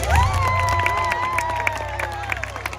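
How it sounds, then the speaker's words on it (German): Crowd cheering and applauding at a knight tournament show at Schloss Thurn, a loud sustained roar of voices with shouts and claps running throughout. "Applaus und Jubel!"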